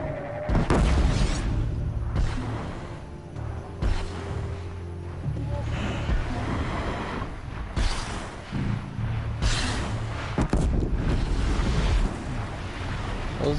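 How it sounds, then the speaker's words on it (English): Deep booming explosions erupt repeatedly in the video game Horizon Zero Dawn, heavy low rumbles and crashes spread over several seconds amid mechanical creaks and ambient game sound. "Those explosions are not machine driven."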